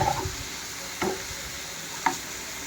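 Duck meat fries in a pan for an Assamese-style duck curry, giving a soft, low, steady sizzle broken by a few sharp clacks as it is stirred.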